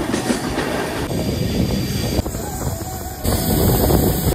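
A Mumbai–Pune Express passenger train near Karjat rumbles along steadily with broadband rolling noise and faint high-pitched wheel squeal, close and loud, with some wind buffeting; no talking.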